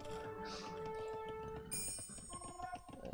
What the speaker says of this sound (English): And yellow rings the bell.